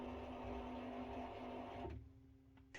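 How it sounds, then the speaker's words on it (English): A BIQU Panda filament feeder on a Klipper 3D printer whirs steadily as it pushes filament through the hub and a long Bowden tube, then cuts off near the end, leaving a quieter electrical hum. "It starts to feed as soon as the sensor detects the filament, pushing it all the way through the hub and down the long Baden tube."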